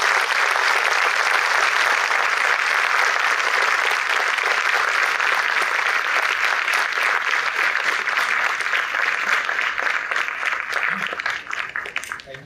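Continuous, loud audience applause after a talk on spiritual leadership at a management institute, a dense, steady wash of many clapping hands that holds for over ten seconds before thinning out at the end.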